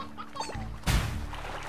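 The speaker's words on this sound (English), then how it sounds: "I hear a chicken." A brief chicken cluck from the video game Slime Rancher, with a few short chirpy notes followed by a louder, fuller burst, heard close against quiet game ambience.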